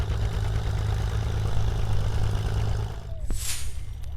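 A 1954–1957 Ford Model 800 tractor with a four-cylinder engine idles steadily at a plow day, its low engine rumble continuous and close for about three seconds before easing as a brief higher whine cuts through near the end.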